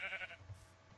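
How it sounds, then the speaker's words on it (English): A Minecraft sheep bleats in short, bright bursts at the start of the brief moment, fairly faint over low game ambience. "Hello, sheep that I care not about."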